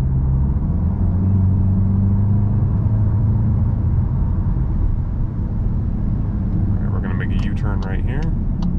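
Stock exhaust of a 2022-2023 Volkswagen MK8 GTI in sport mode, a steady low rumble throughout that rises into a brief rev near the end.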